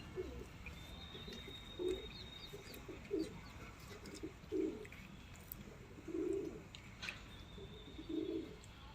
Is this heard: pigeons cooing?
yes